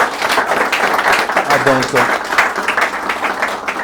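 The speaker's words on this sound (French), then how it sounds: "On peut l'applaudir s'il vous plaît, on peut applaudir maman." An audience at a panel on gender-based violence breaks into sustained applause, dense and fairly loud, with a voice speaking briefly over the clapping.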